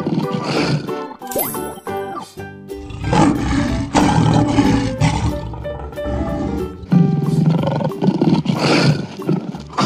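A lion roars several times in a row, each long, rough, deep call rising and falling, loud and near, with brief pauses between them.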